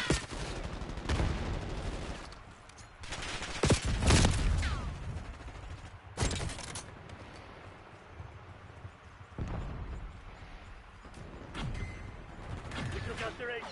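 Bursts of gunfire in Call of Duty Black Ops 6, loud volleys and sharp shots mixed with rumbling impacts, with game voices talking over parts of it.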